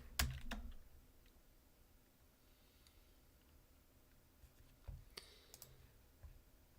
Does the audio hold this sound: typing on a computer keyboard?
yes